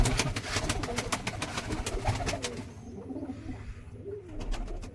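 Pigeons coo softly inside a loft of coops, low murmuring calls mixed with scattered clicks and rustling, fairly close by.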